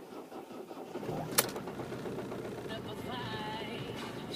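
A Ford Focus 1.6 TDCi diesel engine turns over and catches, then settles into a steady mid-pitched idle with a light tapping clatter while oil pressure builds; the sound stays close and even throughout.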